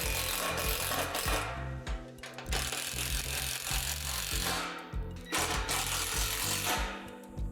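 Playset assembly hardware being tightened with a power tool makes loud, rapid mechanical rattling and buzzing in bursts, with short pauses between runs and no voices.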